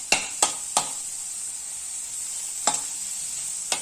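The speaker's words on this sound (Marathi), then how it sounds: "अशी हलवत राहूया" Tandulka bhaji (amaranth greens) sizzles steadily in a pan while a spoon strikes and scrapes it in a few sharp stirs, three close together, then a pause, then more.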